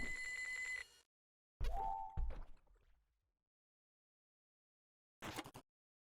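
A payphone rings in the video game Normal Fishing: a short electronic ring, a pause, then a clunky ring burst that fades, and after a long silence one final brief ring.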